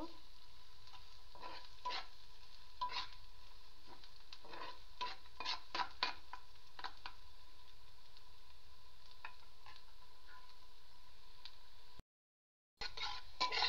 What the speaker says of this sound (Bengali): এবার পেঁয়াজটাকে আমি একটু ভাজা ভাজা করব।